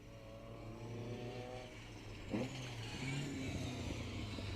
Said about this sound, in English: we've also got another car coming behind us